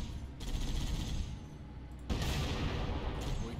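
Gunfire in a Halo campaign mission, heard as two bursts of shots at moderate level over a steady low rumble of in-game ambience, with a short lull between them.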